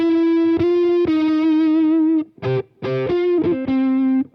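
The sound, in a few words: electric guitar through Soldano SLO Plus amplifier, muffled compressed tone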